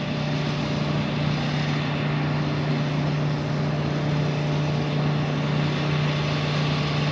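A Grumman TBM Avenger propeller plane rolls down the runway, its engine a steady, fairly distant drone that holds evenly from start to finish.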